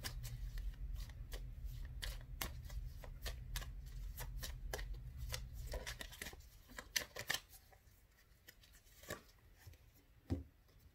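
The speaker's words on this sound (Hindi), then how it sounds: "इसके लिए हम कार्ड निकालते हैं।" Tarot cards are shuffled in a rapid riffle of crisp flicks, then drawn and laid down with a few sparse, soft snaps, close and fairly quiet.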